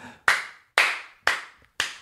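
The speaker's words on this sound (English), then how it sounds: "What's that clap for?" Four sharp, reverberant hand claps spaced about half a second apart, loud and close with nothing else heard, given during a discussion of the TV drama Outlander.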